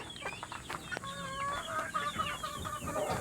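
A rooster clucks and chatters close by in a short burst of repeated calls over faint farmyard background noise.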